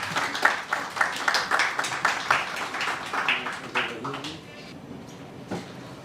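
An audience at a lecture event claps for a speaker, with dense applause for a few seconds that thins into scattered claps and fades out. Voices are mixed in.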